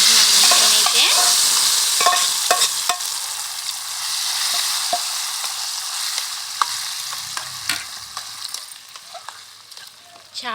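Dried chillies and curry leaves tempering in hot oil for a tomato pickle crackle loudly up close, with scraping stirs and sharp pops that ease into a softer sizzle.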